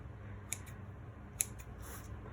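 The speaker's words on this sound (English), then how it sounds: "I am going to trim this a little bit. The best tool is scissors." Scissors snip through the edge of an apple pie dough crust, giving two or three soft, quick cuts spaced apart in a quiet room.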